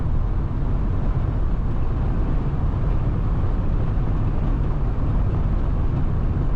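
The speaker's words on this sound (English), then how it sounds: "Truck has a good ride on the highway." A 1987 Ford F-150 XLT Lariat 4x4 pickup cruising on the highway, heard from inside as a loud, steady broadband road and engine roar with tire and wind noise that stays constant throughout.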